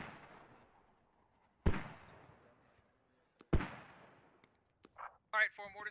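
Mortar rounds landing in the Squad military shooter game, two heavy booming impacts a couple of seconds apart with long rumbling decays, followed by softer thuds and a burst of radio-style voice chatter.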